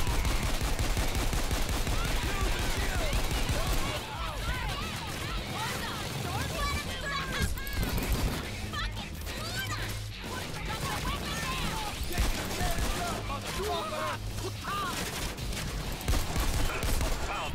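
Dense, sustained automatic gunfire from Payday 2 during a loud White House heist on the hardest difficulty, with bulldozer enemies present. Bursts run continuously under overlapping game noise and talk.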